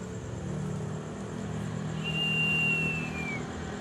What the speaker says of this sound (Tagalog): Tatlong motor. Pupunta naman sa ano yan. Sa rally.